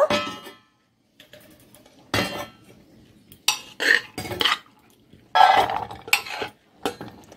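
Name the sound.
pouring boiled chana dal from cooker into bowl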